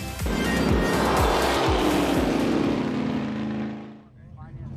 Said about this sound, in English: there is the 98 Breathless Racing car